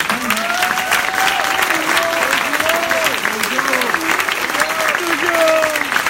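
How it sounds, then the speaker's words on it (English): Sustained applause from a crowd at a demo day event, steady and loud throughout, with occasional whoops and voices rising over the clapping. "Give him a round of applause."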